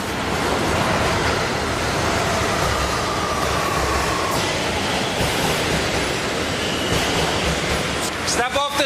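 Subway train on a New York City line, a steady loud rumble and rattle of the car filling the whole stretch, with faint voices beneath and a brief squeal near the end.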